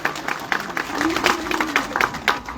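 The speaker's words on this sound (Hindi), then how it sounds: "तो एक तो तालियां बजा करके इनका स्वागत करो।" An audience at a Vishnu Mahayagya religious gathering claps to welcome guests. Scattered, uneven clapping in a reverberant space carries alongside a tonal voice or hum.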